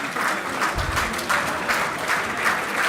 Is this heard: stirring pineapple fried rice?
no